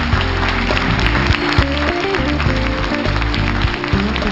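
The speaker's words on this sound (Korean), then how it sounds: "한기옥 주무관님께 큰 박수 부탁드립니다" An audience gives a big round of applause to a presenter leaving the stage, dense continuous clapping layered with music throughout.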